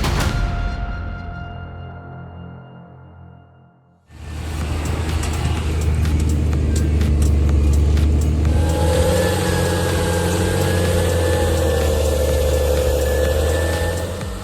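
A John Deere tractor stuck in mud revs hard, a loud, sustained mid-range engine roar following a fading tonal lead-in, holding steady near the microphone with a rising whine later on.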